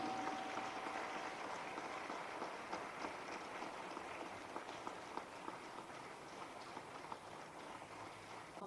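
A seated audience at a spiritual satsang gathering claps steadily for several seconds after a logo launch, a dense, even patter of hands heard from a distance.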